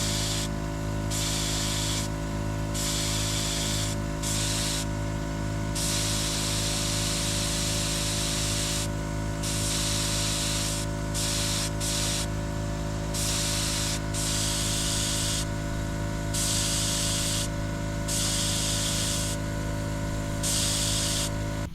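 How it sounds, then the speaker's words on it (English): A paint spray gun test-sprays a small piece of wood during boat work, giving a loud, continuous airy hiss broken by repeated short bursts, with no talking. "I'm going to test out the spray pattern on this little piece of wood."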